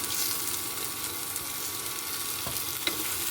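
Vegetables fry in a hot pan with a steady, close sizzle, stirred now and then, alone without talk.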